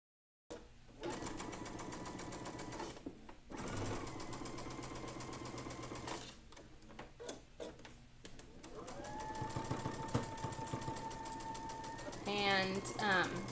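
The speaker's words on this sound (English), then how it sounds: "I'm going to sew that middle seam together." Sewing machine stitching a middle seam on a pinwheel quilt block, a steady rapid mechanical whir in several close runs with short pauses between them, and a voice talking over parts of it.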